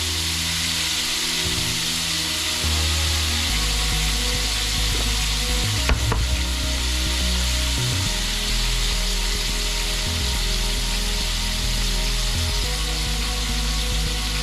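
Lobster sizzles and spits in a hot frying pan while being basted, a dense continuous crackle with scraping and stirring strokes over it and a sharp clink midway.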